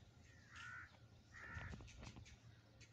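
A crow caws twice outdoors during a morning walk, two hoarse calls a short way off, faint against a quiet low background hum, with some soft rustling after.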